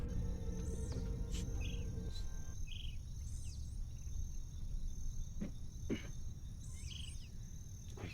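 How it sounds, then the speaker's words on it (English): Crickets chirp steadily through a swamp ambience, with repeated high trills and a few bird calls over a low rumbling background. "I can hear the crickets"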